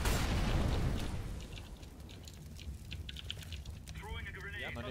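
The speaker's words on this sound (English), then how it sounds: "Throwing a grenade." A grenade bursts in Counter-Strike on the Mirage map, a loud broadband blast at the start that decays into a rumbling tail, with game noise and voices behind it.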